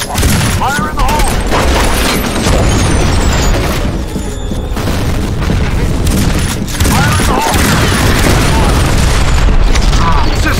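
Grenade blasts and dense gunfire fill a shooter match in F.E.A.R. Combat, loud booms and rattling bursts layered continuously with game radio voice callouts.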